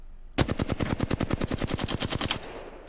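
Flatline rifle in the game Apex Legends firing one continuous full-auto burst of about twenty rapid, evenly spaced shots, loud and close, ending abruptly with a short fading tail.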